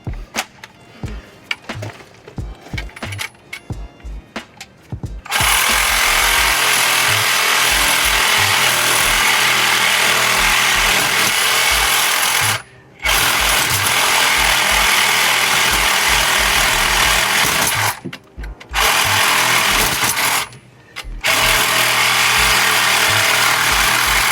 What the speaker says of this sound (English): good thing I got my Sawzall. I'm just gonna cut right through that bolt